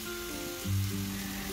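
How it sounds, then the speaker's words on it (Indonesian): Chicken stir-frying in a pan with salt, garlic powder, pepper and coriander, giving a steady soft sizzle with a brief louder burst midway as the pieces are tossed; no talking. "kemudian gongso semuanya."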